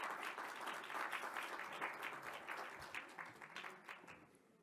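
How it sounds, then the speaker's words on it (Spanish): Applause from a pediatrics federation session audience for a doctor, a dense patter of many hands that holds steady and then tapers off toward the end, with no talking. "Le damos un aplauso, por favor."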